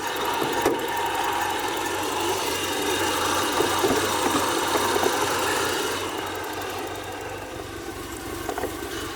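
A car engine idles steadily in a workshop while the air suspension raises the car, a constant low hum with faint mechanical clicks, easing slightly toward the end.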